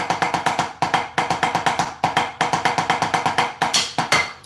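A drum plays a two-note timing pattern, loud and close, repeating in tight rhythmic groups of sharp strokes with brief gaps between phrases.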